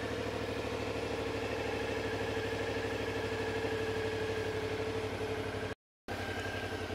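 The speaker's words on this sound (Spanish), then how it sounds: "Solo con un toque la moto se va a encender." A 2021 Suzuki V-Strom 650 XT motorcycle engine idles steadily in neutral with a low, even rumble throughout, broken by a brief silent gap near the end.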